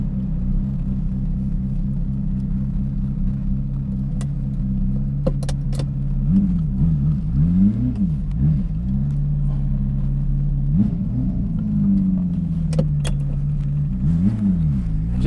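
A Ferrari F355 Berlinetta with a gated manual gearbox on a drive, heard from the cabin: a steady loud engine drone with rising and falling revs during gear changes, plus faint clicks.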